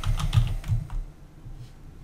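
A computer keyboard being typed on: a short burst of close, quick key taps that fades into near silence.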